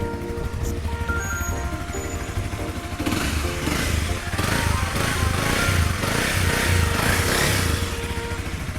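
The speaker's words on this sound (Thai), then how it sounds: "เครื่องยนต์แน่นๆเลย คันนี้นะครับ" A 2015 Honda CBR300R motorcycle engine runs at a steady idle, then grows louder and rougher as it is revved, sounding close by throughout.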